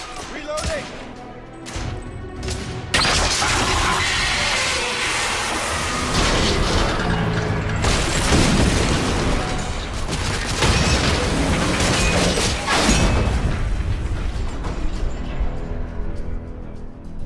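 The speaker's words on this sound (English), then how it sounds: "Galahad, use the thermite to bring the bridge down." A thermite charge in The Order: 1886 brings a bridge down, loud booming blasts and crashing debris rolling on for many seconds amid gunfire-like cracks, with no voices over it.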